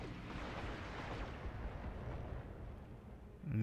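Mech weapons in the Battletech video game unload on an Atlas, a loud, sustained roaring barrage of booming, rumbling fire that fills the whole stretch, with a fresh burst kicking in at the very end.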